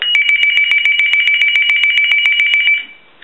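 A TA-1042A military field telephone rings in a rapid, steady electronic trill for nearly three seconds, loud and close, then stops abruptly with no one talking.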